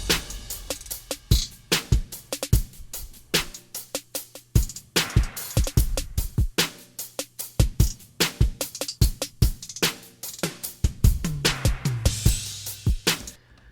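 A full drum groove with punchy kicks, snares and tom hits, electronic and acoustic drums layered together in a steady, busy rhythm with no voices.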